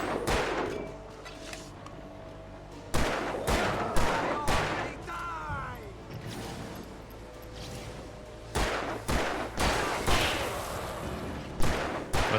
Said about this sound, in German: Jetzt kannst du auf ihn schießen.